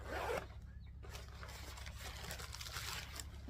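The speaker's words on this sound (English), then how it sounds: "I've got this zippered pouch right here." A zippered pouch on a backpacking pack is pulled open with one close, brisk zip at the start. Soft rustling and handling of the fabric follow, and no voices are heard.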